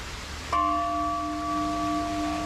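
A single bell strike rings out clearly in Chiang Rai, Thailand, near a waterfall, its pure tone sustaining and slowly fading over a background of outdoor noise.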